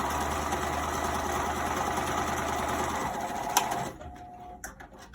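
A sewing machine stitching a pocket onto a dress runs in a steady, loud mechanical whir for about four seconds, then stops, leaving a few faint clicks and handling taps.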